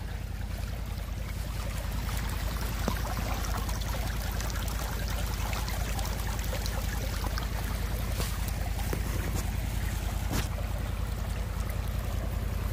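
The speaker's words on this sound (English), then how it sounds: "The water's just gushing." Water gushing and rumbling out of a hole in the ground on a bison ranch, a steady, loud, broadband rush that stays constant throughout with no voices over it.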